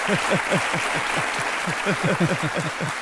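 An audience claps for a volunteer at a televised talk-show interview. The dense applause runs steadily throughout, with crowd voices mixed underneath.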